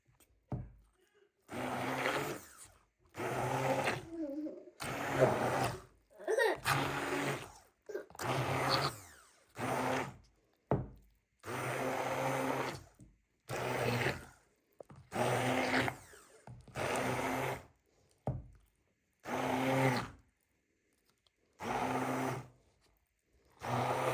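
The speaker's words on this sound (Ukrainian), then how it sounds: "Зараз блендером це все перероблюю" A blender purees cooked chicken in repeated short bursts, whirring on and off in a stuttering rhythm with brief silences between pulses.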